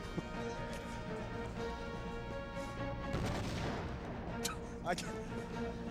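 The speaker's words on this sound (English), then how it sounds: "That was just an explosion sound." An explosion sound effect from the Nintendo 64 game Superman 64 gives a short broadband boom amid game noise, with people talking over it.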